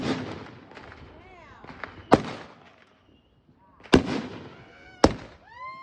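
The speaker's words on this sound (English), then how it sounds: "Awesome fireworks." Fireworks show seen from outdoors, with three loud sharp bursts spaced a couple of seconds apart, each followed by whistling, crackling trails and fading rumble, as family members talk and react in the background.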